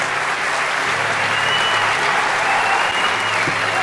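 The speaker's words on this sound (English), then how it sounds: "Let's hear a round of applause." A large DEF CON 20 hacker convention crowd gives a round of applause, continuous dense clapping with a faint background murmur, loud and constant throughout.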